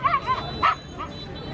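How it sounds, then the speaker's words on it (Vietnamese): Pomeranian puppies at a pet market yip and bark in several short, high bursts close by, with people talking in the background. "Hai chú chó con này là loại gì đây anh? Phốc."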